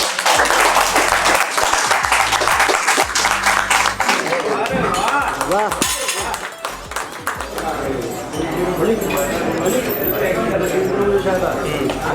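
Audience clapping for the overall winner of a one-minute challenge at a wrestling-related event, a dense patter that carries through under loud talking and shouting voices, with a brief dip midway before it picks up again.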